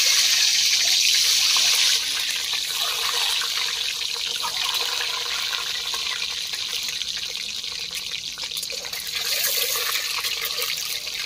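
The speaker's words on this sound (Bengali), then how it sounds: "তেল গরম হয়ে গেছে, এবার ডিমগুলো ছেড়ে দেবো।" Eggs dropped into hot oil on a wood-fired stove outdoors on a rooftop, a strong hissing sizzle that bursts loudest at the start and then settles into a steady frying crackle.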